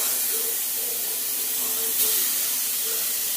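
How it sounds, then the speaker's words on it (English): Ground beef meatballs sizzling in a pot, a steady, even hiss of frying fat that holds throughout at moderate loudness, with no talk. "All the sizzling."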